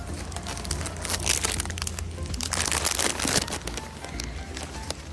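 A bag of red Doritos chips crinkling and crackling close up, dense rustling bursts that swell and fade over a low steady rumble.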